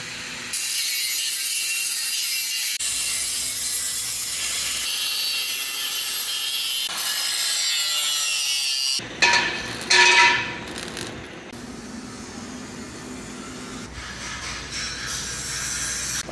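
A power tool runs loud and steady for several seconds as steel is cut in a metal workshop, then stops and gives way to clanks, knocks and a lower mechanical hum.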